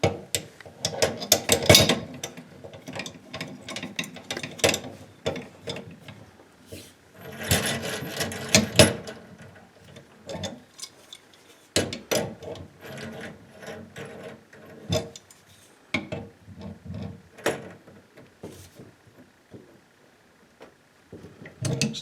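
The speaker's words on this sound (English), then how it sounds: "we're going to tighten the upper nut." A wrench tightens the upper nut on a gas supply line, giving repeated metallic scrapes and ratcheting clicks in irregular bursts, close and fairly loud, with short quiet gaps between turns.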